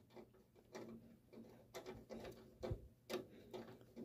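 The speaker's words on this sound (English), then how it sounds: "Get that screw started right and tight." A handheld screwdriver drives a screw during a Goodman furnace flame sensor repair, giving faint, close, uneven ratcheting clicks and turning sounds over a low background hum.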